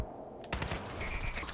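Rapid burst of minigun fire in Fallout 4 Automatron, a dense stream of shots starting abruptly after a quiet moment and running steadily at close range with game ambience behind it.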